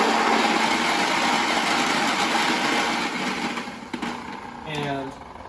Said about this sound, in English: Another way you could do it is if you have a grain grinder.